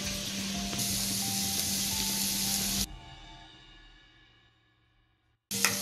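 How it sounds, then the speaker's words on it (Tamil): Capsicum and mixed vegetables sizzle steadily in a hot pan while sautéing for egg fried rice, a loud, dense hiss that fades away over several seconds, then cuts back in abruptly. "காய் நல்லா வதங்கிருச்சுங்க."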